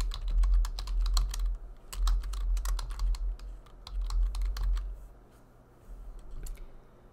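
Quick bursts of typing on a computer keyboard as a procedure description is entered, close, crisp key clicks in clustered runs that thin out and stop near the end.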